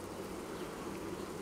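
A dense, steady buzz of many honeybees at a hive during colony division fills the clip, close and continuous with no voices.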